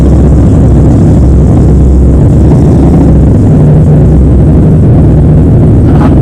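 A loud, steady engine roars continuously with a deep low rumble, running close by without pause.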